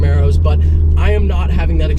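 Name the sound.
modified Camaro ZL1 car being driven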